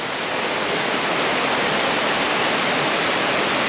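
Balea waterfall high in the mountains along the Transfagarasan, Romania, roars as a loud, steady broadband rush of falling water, constant throughout with no voices.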